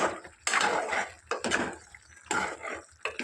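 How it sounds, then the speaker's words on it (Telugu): A spoon stirring ground masala into mutton curry in a pot gives several loud, wet scraping and clattering strokes in an irregular rhythm, close by with no talk. "ఇప్పుడు మటన్లో వేసుకొని ఒకసారి బాగా కలుపుకోవాలి"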